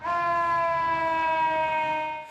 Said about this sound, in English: We witnessed an ambulance and fire truck at the shelter on the day we visited.